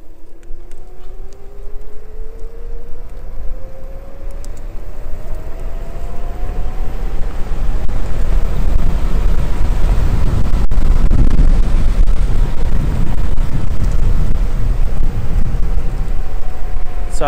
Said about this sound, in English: Let's put it in a higher gear. And see how we go down this hill.